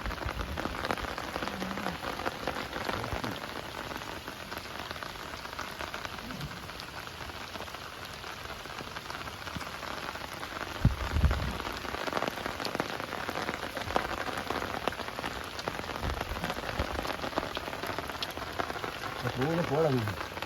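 Steady rain patters on a surface throughout in Alappuzha, a continuous hiss with scattered drops, and a few faint voices underneath.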